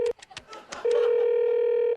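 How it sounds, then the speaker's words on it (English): A few soft clicks, then a steady electronic telephone ringing tone holds on evenly for over a second before cutting off. "Okay, it's ringing."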